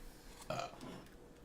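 A single short, close burp after drinking a coconut La Croix during a taste test, brief and fairly loud over a quiet background.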